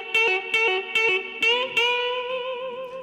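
Electric blues guitar lick, a run of plucked notes with string bends, ending on a sustained bent note that rings out and fades, played alone.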